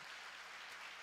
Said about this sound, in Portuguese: Aplauda ao Senhor, aplauda ao Senhor